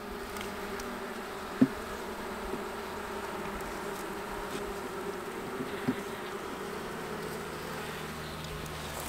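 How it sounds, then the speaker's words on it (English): Honey bees buzz in a sparsely populated hive, a steady low drone close by with a few louder passing buzzes and no talking. "Not a whole lot of bees either."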